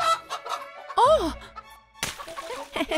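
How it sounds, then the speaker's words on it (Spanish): Cartoon chickens cluck and squawk in short bursts, one rising and falling call loud in the middle and more clucking near the end, with brief animated voices in between. "¡Son solo las gallinas!"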